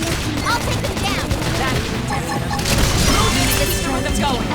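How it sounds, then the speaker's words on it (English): Gunfire in the video game Xenoblade Chronicles X comes as a dense, continuous barrage of shots and crackling impacts mixed with battle noise. It is loud throughout, and game voices are probably present. "Gunfire! I'll take them down!"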